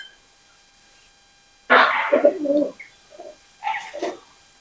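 Rare Pakistani pigeons cooing close by, with a low, throaty coo and a brief pause before a second softer burst of calls.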